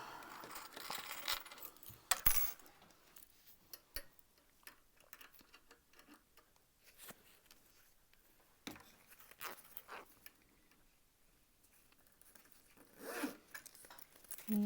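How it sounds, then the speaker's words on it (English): Zipper pulls slid onto a handmade crossbody bag's zipper while sewing, giving short scattered clicks and raspy metal slides with a louder clack near the start and end, close and quiet with no talk. "I prefer to add my zipper pulls first."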